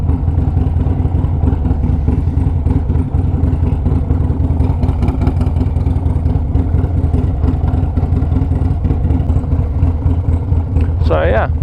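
A vehicle engine warms up after work with a steady mid-pitched rumble. It stays close and loud the whole time, with a person talking over it and a brief rising sound near the end.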